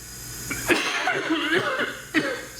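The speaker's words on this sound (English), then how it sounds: "Gotta love the heart failure cough" A few rough coughs up close over a low background hum, mixed with a breathy, chuckling sound.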